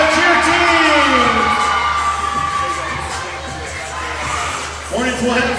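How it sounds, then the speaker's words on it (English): Crowd cheering and whooping in a gym at a girls' varsity volleyball match between Truman and NKC, loud and sustained with shouting voices, fading slightly then swelling again near the end. "Let's give that cheer squad a big round of applause"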